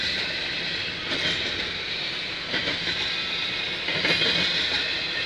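CN freight train rolling past, a steady broad rumble of railcars with faint rhythmic wheel clatter and occasional high wheel squeal, fairly close and continuous, with no talk.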